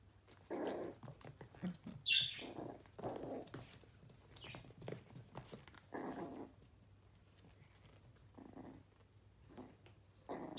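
A dog growls in low, rumbling bursts during morning play at home, fairly close, with short pauses between the growls over a faint steady background hum.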